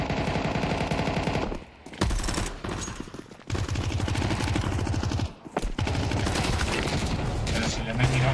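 Rapid gunfire bursts in Counter-Strike 2, loud and nearly continuous with short gaps, layered with busy game sounds.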